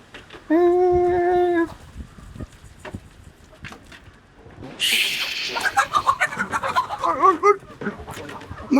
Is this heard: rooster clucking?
yes